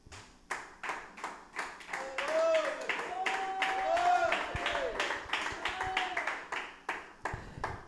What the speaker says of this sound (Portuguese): Poder sentar e bater as palmas bem alegre para Jesus.